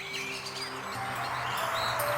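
Long-tailed tits call between an expressway and a small railway line, sending out quick high chirps and thin tweets over a constant low background hum of traffic.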